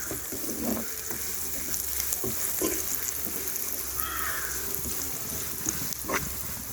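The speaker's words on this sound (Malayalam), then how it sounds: "കുറച്ച് കായപ്പൊടി, കുറച്ച് കറിവേപ്പില കൂടെ ചേർത്ത് ഈ പൊടിയുടെയൊക്കെ ഒരു പച്ചമണം മാറുന്ന നേരം ഒന്ന് ഇളക്കാം" Chili powder, asafoetida and curry leaves fry in hot oil for an anchovy pickle, with a steady close sizzle and a few soft scraping stirs of a spoon against the pan, no speech.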